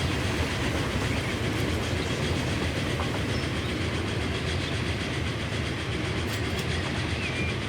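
A train rolls past in Transport Fever 2, giving a steady, dense rumble of wheels and track noise that stays loud and even throughout, with no speech.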